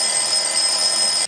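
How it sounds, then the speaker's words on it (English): A loud electronic alarm rings continuously in a high steady beeping tone, close by, then cuts off abruptly at the end. "So now my alarm's gone off at"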